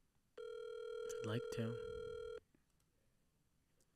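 A phone rings out with a steady electronic ring tone lasting about two seconds, close by, while a person speaks briefly over it.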